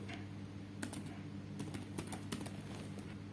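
Light keystrokes tap on a computer keyboard as a spreadsheet formula is entered, a few soft, separate clicks spaced irregularly over a steady low hum, faint and close.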